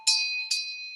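A meditation bell is struck twice, each ring a bright metallic strike followed by a sustained shimmering tone, the second coming about half a second after the first, clear and close with no voices.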